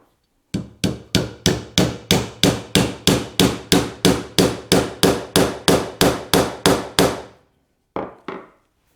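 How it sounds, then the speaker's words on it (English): Hammer blows drive a glued wooden dowel into a dovetail drawer. About eighteen sharp, evenly spaced strikes come in a steady rhythm, close and clear, with the pitch shifting as the dowel seats. Two lighter taps follow after a short pause. "You can hear the pitch change as you're hitting it with a hammer"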